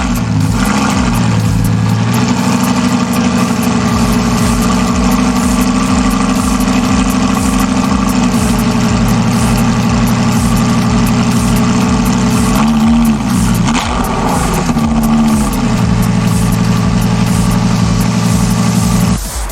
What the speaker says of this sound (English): and it's a pretty cool sounding engine too.